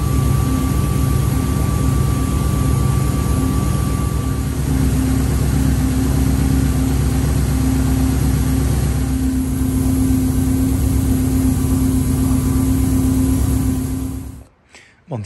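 A Subaru car engine idles steadily after a six-speed transmission rebuild, a loud, even, close drone with a faint whine, lasting until it cuts off abruptly near the end; a voice speaks briefly.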